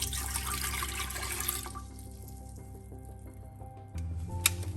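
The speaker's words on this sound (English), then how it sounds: "we'll go ahead and pour that into the air still." One cup of water is poured into an Air Still distiller, a brief splashing gush that fades into quiet, followed by a faint click and hum nearby.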